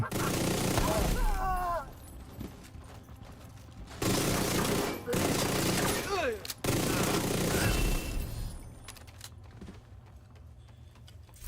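Rapid automatic gunfire in The Division, in long sustained bursts with brief gaps between them, loud and close, mixed with shouted game voices and mechanical clatter.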